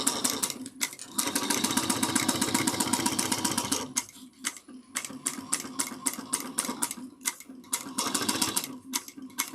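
Home sewing machine stitching a bag seam at three-eighths of an inch with a backstitch, close rapid mechanical whirring in bursts, one long run then several short stop-start passes.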